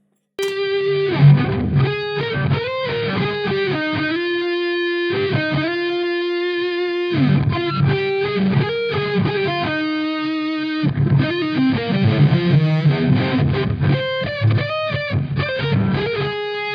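A heavily distorted electric guitar in a thick, saturated tone plays sustained melodic lead lines with long held notes, loud and close, with no talking.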